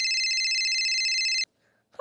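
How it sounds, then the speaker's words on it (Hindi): A phone rings with a steady electronic tone, loud and close, for about a second and a half before stopping. "फोन किसका आ रहा है?"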